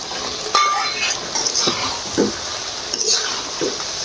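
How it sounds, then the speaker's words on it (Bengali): Pangas fish curry is stirred in a pan on the stove: soft scraping strokes of a utensil against the pan over a constant low sizzle, with a few clinks of metal. "এবার ঢাকনাটা তুলে নাড়াচাড়া করে দেব।"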